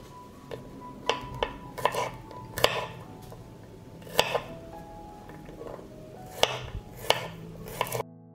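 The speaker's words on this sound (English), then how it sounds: "I will chop 6 cloves of garlic" Knife chopping six cloves of garlic on a cutting board in a home kitchen while a marinade heats, heard as a dozen or so sharp, irregular taps spread across the clip over a low background hum.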